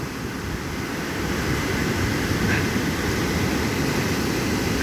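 Ocean waves breaking on a beach beside a boardwalk, a continuous wash of surf that swells slightly midway, steady and fairly loud with wind noise and no voices.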